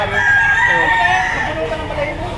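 A stag rooster crowing at a livestock auction market, one drawn-out crow close by over a busy background.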